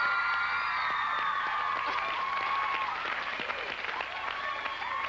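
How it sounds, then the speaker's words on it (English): Studio audience on a talk show applauding and cheering for a singer, a steady wash of clapping with scattered whoops, heard close and continuous throughout. "Give a huge round of applause,"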